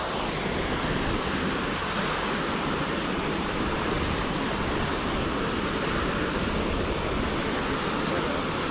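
Loud, constant rushing water roars as a dense, steady wash of noise, close up and unbroken from start to finish.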